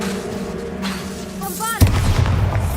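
An explosive fire spell, Confringo, cast in the wizarding game Hogwarts Legacy: a brief whooshing buildup followed by a single loud close boom with a rumbling tail.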